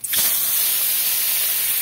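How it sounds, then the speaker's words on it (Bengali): Fish drops into hot white oil in a kadai, setting off a sudden loud hiss that holds as a bright, steady sizzle close by, with no voices. "কড়াইতে সাদা তেল দিয়ে দিয়েছি, তেলটা গরম হয়ে গেছে। এবার মাছগুলোকে আমি এক এক করে দিয়ে দেব।"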